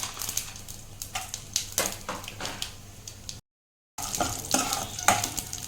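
Dals crackling in hot oil for a tempering with mustard and cumin seeds, busy popping sizzle and stirring scrapes, broken by a brief silent gap before the frying resumes.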